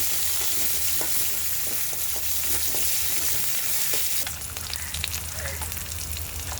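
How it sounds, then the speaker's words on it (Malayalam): Green chillies sautéing in a hot pan give a steady, close frying sizzle with small crackles and stirring scrapes, with no talk. "ഇത് പച്ചമുളകാണ്. പച്ചമുളകൊന്ന് വരട്ടും."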